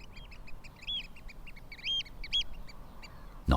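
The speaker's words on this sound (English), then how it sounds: "They are young birds not yet mature enough to reproduce and gather in flocks to search their territory for food." A flock of young, immature birds calls in Iceland, several short quacking, honking notes repeated in quick bursts at moderate distance, over a soft steady background.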